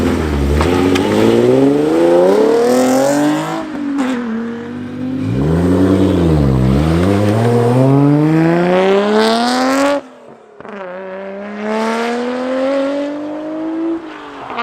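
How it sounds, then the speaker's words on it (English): A silver Porsche 944 pulls away from a busy cars-and-coffee breakfast meet, its engine revving up through rising pitch sweeps, easing off, then climbing again loudly and close before fading. "Silver Porsche 944 is also off now."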